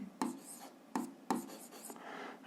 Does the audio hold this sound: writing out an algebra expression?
yes